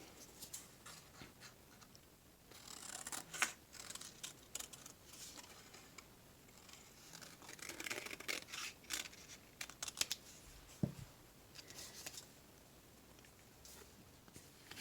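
Scissors snipping through gray paper to cut out a drawn mountain shape, a run of soft close crisp cuts and rustles with small ticks, fairly quiet and without talk.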